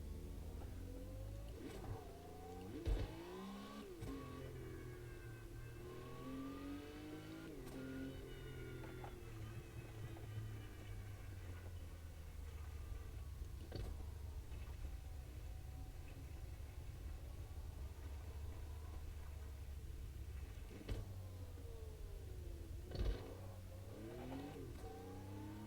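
A 1974 Porsche 911 RSR engine in Automobilista 2 revs up and down through a corner, pitch sweeping as the driver lifts and accelerates, heard quietly and continuously with a few small clunks and no speech.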